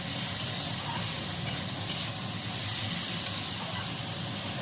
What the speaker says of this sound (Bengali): এই যে জলটা ঢেলে দিলাম।